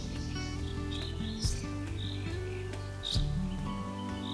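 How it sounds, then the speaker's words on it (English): Birds singing at sunset in a quiet spot in Augustów, Poland: soft, scattered chirps and short calls at moderate distance over a steady low hum, with two slightly louder bursts and no talking. "I let the birds do the talking for me."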